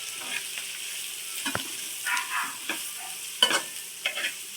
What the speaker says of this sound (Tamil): இப்போது நம்ம கட் பண்ணி வச்ச மரவள்ளிக்கிழங்க போட்டுடலாம்.